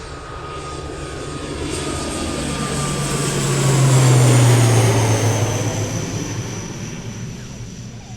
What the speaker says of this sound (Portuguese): Esse é um ATR, é aqueles com hélice, né?